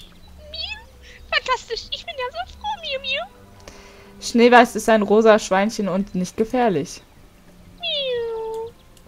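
Cat-like meows rise and fall across the clip in the video game Perfect World: New Horizons, a high synthetic mewing mixed with a voice and other chattering speech, ending on one drawn-out meow.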